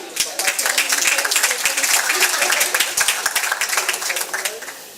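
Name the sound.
audience applause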